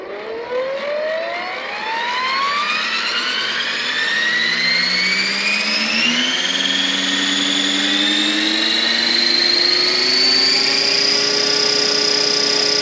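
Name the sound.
RC scale model helicopter flying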